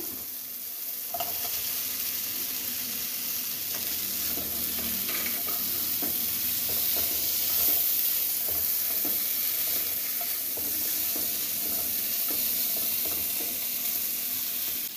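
Small broken pieces of fish sizzle in spice paste in a wok for a fish-head moong dal, a constant close frying hiss with frequent scraping and stirring strokes, no one talking.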